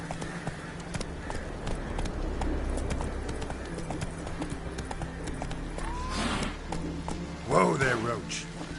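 Roach the horse gallops in The Witcher 3, a quick rhythmic clip-clop of hooves running steadily beneath game music and effects, ending with a sharp whinny-like accent near the close.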